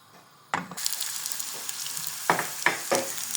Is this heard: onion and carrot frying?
yes